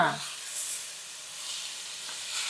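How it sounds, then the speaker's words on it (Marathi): Chopped onion dropped into hot oil, hissing and sizzling steadily at moderate loudness right after a brief thud, close by, with a faint voice under it. "तेल तापलंय आता आपल्याला ह्याच्यात हा कांदा टाकायचा आहे"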